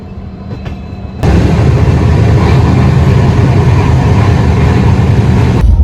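A train runs with a loud, steady rumble and rattle that begins abruptly and continues close by.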